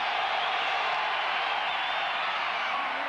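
A huge stadium crowd roars at Candlestick Park during a 1985 Monday Night Football game between the Rams and 49ers, a steady, dense, loud wash of noise that holds without a break.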